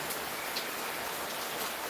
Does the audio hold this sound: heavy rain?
yes